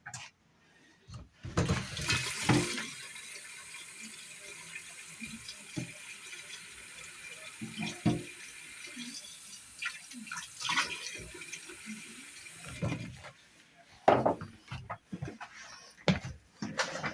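Water runs from a tap to fill a hot water bath for homemade chocolate tacos, coming in uneven gushes and splashes, close and fairly loud, with pauses and clattering handling sounds between the bursts.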